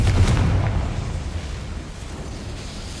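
The Confringo fire spell exploding in Hogwarts Legacy, a loud booming blast at the start that rumbles and fades into a low lingering roar.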